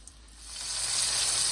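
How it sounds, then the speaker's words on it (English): Chicken cutlet sizzling in a hot pan, a close, steady frying hiss that swells louder over a couple of seconds. "Listen to the sizzle."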